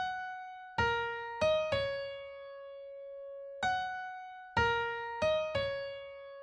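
An orchestral excerpt by Tchaikovsky in 12/8 time, heard as sparse, clear pitched notes struck in short groups with gaps and held tones between, each attack ringing and decaying, moderately quiet with no talking.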